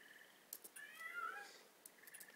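A cat in the video game Precipice of Darkness meows; a drawn-out, wavering meow in the middle with shorter chirps and soft clicks around it, faint and heard alone.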